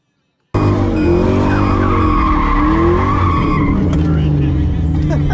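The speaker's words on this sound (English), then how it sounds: "I love when I hear them revving their engines" At a drag strip, a car engine revs hard and tires squeal loudly right after a brief silence, the roar sustained and close with a voice speaking underneath.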